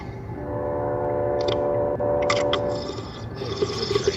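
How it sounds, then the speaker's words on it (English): A train rumbles steadily at a distance, with sustained horn-like tones and some metallic rattling and hissing over a constant low roar. "there's a train in real life"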